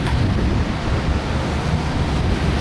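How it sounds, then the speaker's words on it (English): Brisbane floodwater in January 2011 rushing like a torrent, a loud, dense, continuous roar of churning water with wind buffeting the microphone, no voices. "This is like a torrent."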